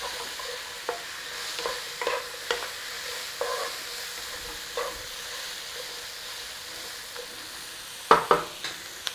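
Chips and seasoning are stirred in a pan for Chinese salt and pepper chili chips, with soft scraping strokes over a steady frying sizzle and a few louder clatters near the end.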